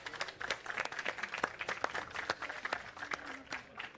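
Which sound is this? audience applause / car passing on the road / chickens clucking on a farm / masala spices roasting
audience applause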